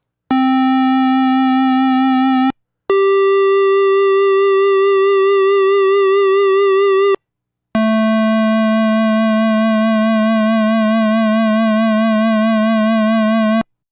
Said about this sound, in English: there's no vibrato at the beginning there, but then it sort of comes in to warm up those notes